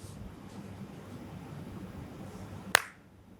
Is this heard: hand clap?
yes